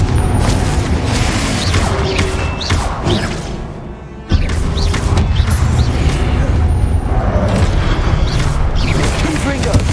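Repeated Confringo fire blast spells in the Hogwarts Legacy video game, a string of heavy booming impacts and whooshes over continuous battle rumble, broken by a brief lull midway before the blasts resume loudly.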